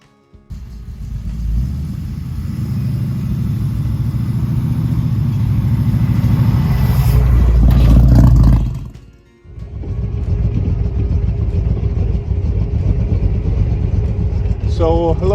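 A Chevrolet Camaro's engine rumbles steadily from inside the cabin while driving, swelling briefly as it revs, then dipping and settling back into a constant drone.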